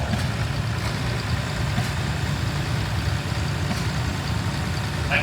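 An International 1206 turbo tractor, the first production year for the turbo, rolls past in a steam and gas association grand parade of equipment, its engine a steady low rumble heard without talk amid outdoor crowd ambience.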